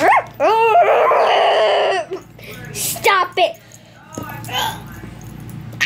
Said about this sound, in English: that's our creepy dog.